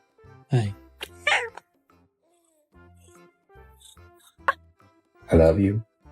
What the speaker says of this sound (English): Let's listen to what this cat has to say.